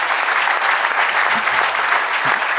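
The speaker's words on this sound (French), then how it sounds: "je crois qu'on peut encore les applaudir" An audience at a conference on sustainable supply chains claps in a sustained, dense burst of applause, loud and even throughout with no voices heard over it.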